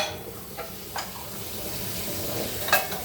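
Homemade shrimp-paste sauce bubbles and sizzles steadily in a pan on the stove, with occasional soft clinks, continuous and close.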